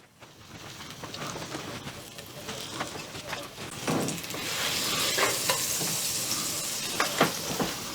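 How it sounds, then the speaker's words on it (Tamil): Butter sizzling in a frying pan for chicken Alfredo pasta, a steady frying hiss that builds and thickens over the clip, with scattered stirring clicks and scrapes close by; no one talks. "இப்போ அதே பேனில் கொஞ்சம் பட்டர் போட்டுக்கலாம்."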